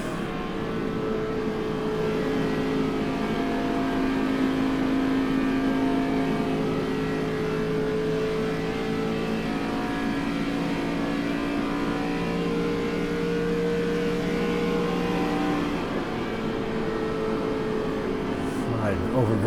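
ARCA race car on a 1.5-mile oval, heard from inside as a steady, loud, droning engine note with slowly shifting pitch throughout, continuous road and wind roar, no pauses.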